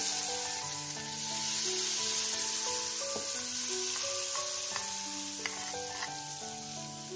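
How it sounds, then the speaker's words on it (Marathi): Hot oil with mustard seeds spread over handvo batter, a steady hissing sizzle with scattered sharp pops and crackles, close and fairly quiet, no talking. "आता हे जे तेल मी घेतलेलं गरम करून मोहरी आणि टाकून त्याच्यावर टाकायचं"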